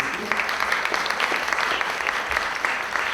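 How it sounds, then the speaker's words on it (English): An audience at a luncheon applauds sponsors, brisk clapping from a roomful of people, steady and fairly close throughout the few seconds. "Let's give them a round of applause."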